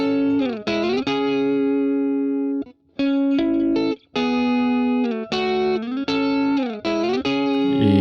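A heavily distorted electric guitar, clipped through Reaper's stock distortion, plays a riff of sustained chords, with a couple of brief pauses between phrases, loud and upfront.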